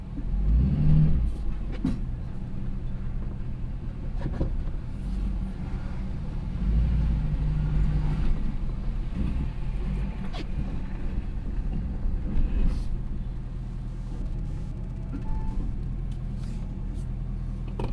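A 2017 Ford Super Duty plow truck pushing snow into a driveway, a steady low engine rumble with wind buffeting the microphone throughout and a few faint knocks.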